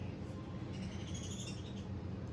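Small pet birds in a home cage chatter with soft, continuous chirps and tweets, faint and steady throughout, with no talking over them.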